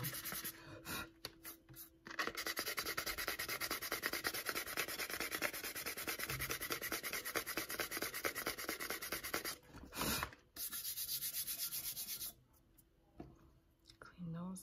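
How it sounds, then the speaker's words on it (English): Steady rubbing and scratching of sandpaper against a tumbler, close up, with brief pauses between passes. "I think I might do a little bit of sanding to this one too"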